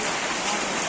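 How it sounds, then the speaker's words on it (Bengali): Light early-morning rain falls steadily outdoors near a river fish market, making a dense, even hiss of pattering drops with no pauses. "টিপ টিপ টিপ টিপ করে বৃষ্টি পড়তেছে।"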